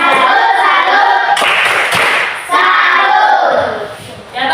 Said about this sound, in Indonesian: Tepuk salut untuk kelompok 3